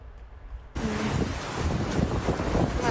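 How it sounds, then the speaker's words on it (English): Strong monsoon storm wind in Queen Creek, Arizona abruptly roars into the microphone after a quieter moment, then keeps up as a loud, continuous gusting rush. "Listen to that wind"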